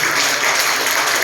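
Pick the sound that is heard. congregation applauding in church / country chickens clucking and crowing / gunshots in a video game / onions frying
congregation applauding in church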